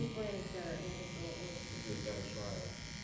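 Cordless hair clippers buzz steadily and close up throughout, a continuous electric hum while people talk over it during a haircut.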